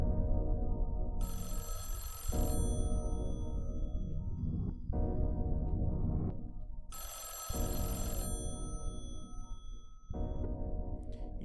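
A telephone ringing in the horror video game Mothered, two long bursts of electronic ringing separated by quiet gaps, clear and fairly close.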